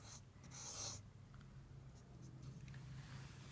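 Pen or marker strokes writing Arabic calligraphy by hand on paper, a scratchy close rubbing that comes in short bursts over a low steady background hum.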